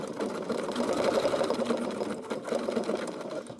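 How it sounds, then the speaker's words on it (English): A sewing machine stitches thread over drawn lines for thread sketching, running as a continuous, close, steady mechanical whir with a fast, even stitching rhythm. "we'll start stitching over the lines that we created"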